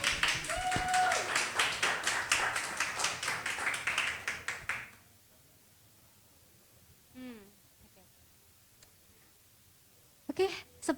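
An audience at a product launch talkshow gives a short burst of brisk clapping that fades out after a few seconds, followed by quiet room tone with faint shuffles and brief noises.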